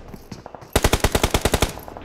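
A loud, rapid burst of automatic gunfire in a battle royale video game, about a dozen evenly spaced shots knocking down an enemy after some softer background game noise.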